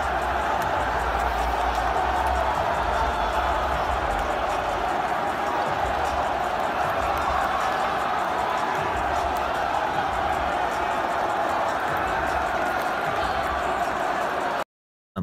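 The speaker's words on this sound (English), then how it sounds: "We've got video of them storming the court." A roaring crowd of basketball fans storming the court after ASU's triple-overtime win over UCLA in Tempe, a dense, steady wall of cheering and shouting that stays loud throughout before cutting off abruptly.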